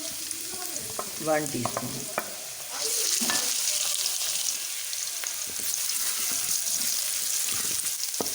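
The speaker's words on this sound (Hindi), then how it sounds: "अब इसमें मैं डालूँगी लहसुन अदरक का पेस्ट" Garlic ginger paste sizzles in hot ghee with fried onion, a steady crackling fry that grows louder midway as it is stirred, with a brief spoken line over it.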